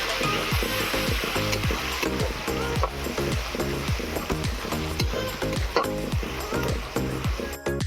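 Ginger, garlic and onion paste fries in a pan with a steady, close sizzle, partly masked by rhythmic background music running throughout.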